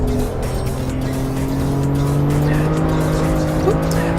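Race car engine droning steadily with tires squealing and sliding as the car drifts over curbs in the racing game Assetto Corsa Evo, a continuous loud engine tone holding throughout with a bit of talk faintly underneath.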